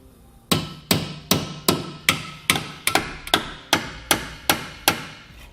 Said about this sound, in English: tapping it in with the hammer